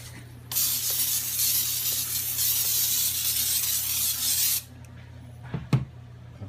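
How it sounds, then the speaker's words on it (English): Cooking spray hisses from an aerosol can onto a waffle iron for about four seconds in a steady, loud burst, followed by a few soft clicks and handling knocks. "Come on, spray it. Let's spray it."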